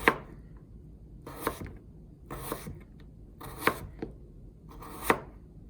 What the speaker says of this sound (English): And now I'll make some more slices.